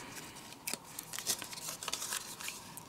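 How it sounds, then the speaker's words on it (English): Scissors cut a dovetail into a paper binder strip, close crisp snips and rustling of paper in quick irregular bursts. "I'm just going to cut right where I think is the center, and then go from there"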